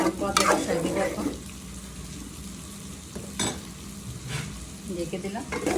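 Beef brain frying with masala in a pan, sizzling steadily while a spoon scrapes and stirs in a few sharp bursts, close and fairly loud.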